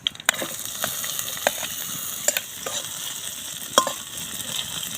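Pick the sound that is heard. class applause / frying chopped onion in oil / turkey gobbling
frying chopped onion in oil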